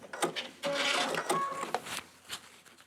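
A sewing machine back stitches during machine quilting in short, choppy bursts that stop and start, close by, with a rapid mechanical whir in each run and brief gaps in between.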